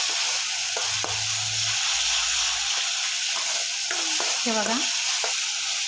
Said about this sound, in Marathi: आणि या पेस्टला आपल्याला तेल सुटेपर्यंत ठेवायचं आहे।